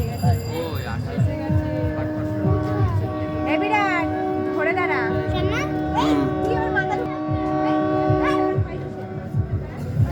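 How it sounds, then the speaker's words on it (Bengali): Bandhan Express train approaching over a bridge at a busy fair, its long horn sounding repeatedly over a low rumble, while excited children and adults talk loudly throughout and a dog barks. "ওই আসে ট্রেন আসে দেখ দেখ দেখ"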